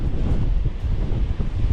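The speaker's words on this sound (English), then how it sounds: "A lot of wind coming in." Strong coastal wind sweeps a clifftop above an ocean inlet on the way to Shark Fin Cove. It buffets the microphone in a loud, continuous, close-up roar with slight gusting surges.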